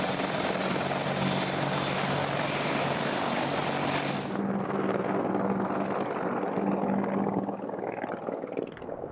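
An Apache attack helicopter in flight during gunnery and live-fire exercises: a loud, steady rotor and engine roar, which drops to a duller, muffled drone partway through.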